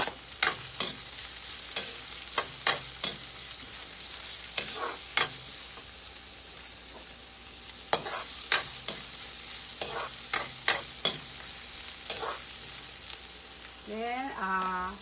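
Garlic and then onion sautéing in a pan for Filipino pork menudo, a steady sizzle under repeated sharp scrapes and clicks of a spoon stirring against the pan, with a short voice-like burst near the end.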